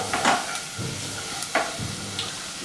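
Carrot sautéing in a pan for risotto, with soft intermittent stirring scrapes and a low sizzle; a few distinct utensil strokes stand out over the steady frying.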